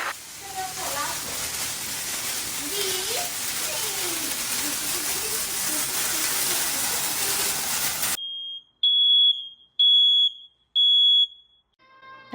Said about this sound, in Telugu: ఫైర్ అలారం మోగింది.